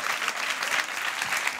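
A studio audience on a Catalan TV talk show claps in a dense, sustained burst of applause, loud and close, with no one speaking over it.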